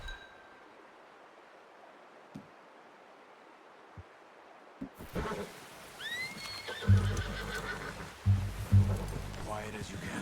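A horse in Red Dead Redemption 2 whinnies and snorts, followed by heavy low thumps and hoof movement, over soft ambient game background after a quiet stretch, with other voices present in the scene.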